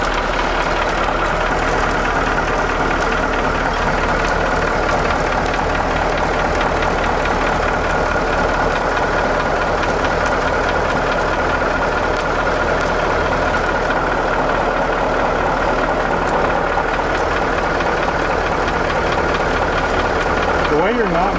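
A diesel ramp truck engine idles loudly and close with a rough, continuous knocking rumble and occasional stumbles throughout. Voices speak over it.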